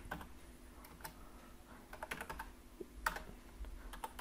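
Quiet typing on a computer keyboard: irregular soft key clicks over a low background hum, with no voice.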